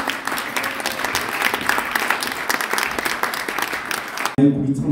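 Sustained audience applause fills a prize ceremony hall in Brussels, dense and steady for over four seconds before cutting abruptly, with a voice speaking briefly at the very end.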